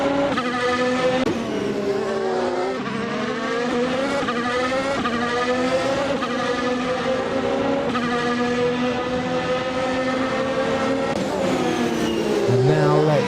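A Williams Formula 1 car in a sim racing game, competing against a Ferrari on a hilly circuit, screams loudly and steadily throughout, its engine pitch climbing through the gears with a few dips between them. A commentator talks over the engine.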